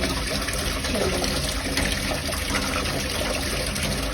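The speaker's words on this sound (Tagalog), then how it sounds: "Oh my god, the water is flowing!" Water flows in a continuous full rushing gush, loud and steady throughout, with no pauses or other sounds breaking through, at a new house under construction.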